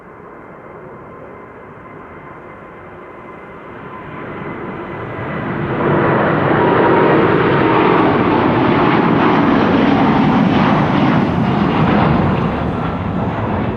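An Indigo airliner departs Amsterdam Schiphol for Mumbai, its jet roar swelling from a distant rumble into a loud, sustained, broadband blast that holds steady to the end, with no voices.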